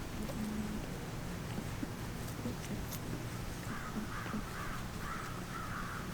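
Crows cawing repeatedly in the distance, a series of harsh calls toward the end over steady outdoor background noise.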